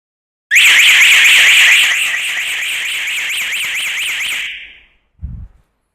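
A loud electronic alarm hooter on a water leak detection system, set off by water on its sensor cable, wails in a steady warbling tone for about four seconds, then cuts off, followed by a short low thump.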